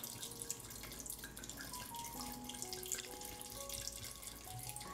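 Water being poured into a pressure cooker holding dal, a steady running trickle with faint dripping and splashing, moderately quiet and alone in a home kitchen.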